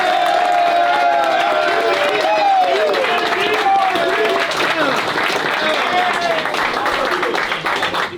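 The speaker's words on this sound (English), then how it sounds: "give yourselves a round of applause" Crowd at a CFL BC Lions season wrap event applauding and cheering, with whoops and a sustained roar of clapping; a voice carries over the noise at first before the applause thins toward the end.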